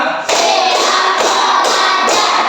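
Claps from a group in a counting clap routine land together in crisp, evenly spaced bursts, four or five loud strokes close to the listener.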